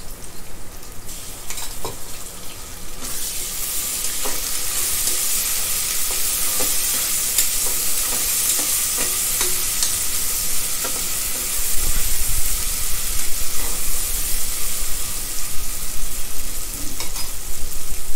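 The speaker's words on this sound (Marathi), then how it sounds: "आता आलं लसूणची पेस्ट टाकून घेते एक मोठा चमचा" A large spoonful of ginger garlic paste frying in hot oil gives a loud, dense, continuous sizzle close by, with occasional stirring clicks, growing louder near the end and heard without any talking.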